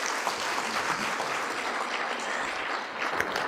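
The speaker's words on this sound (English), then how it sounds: "Another round of applause, please." A lecture-hall audience at a bar association memorial lecture claps steadily throughout, an even wash of many hands at moderate loudness with no voices over it.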